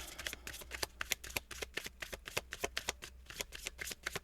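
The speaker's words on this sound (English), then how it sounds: "if I shuffle this again here and we get no cards" A deck of tarot cards is shuffled again and again, giving a fast, crisp run of riffling flutters that repeat in quick bursts close to the listener, with a faint low hum underneath.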